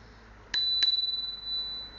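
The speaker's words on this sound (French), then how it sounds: "elle est aussi équipée d'une sonnette" Two quick dings from the bell on a Tri2000 scooter, close and bright, with a clear ringing tone that decays slowly after the second strike.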